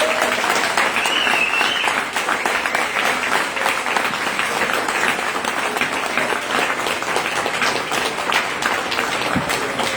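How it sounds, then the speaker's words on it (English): A college baseball banquet audience gives a sustained round of applause, dense clapping at steady volume throughout, with scattered voices in the crowd. "How about one last round of applause?"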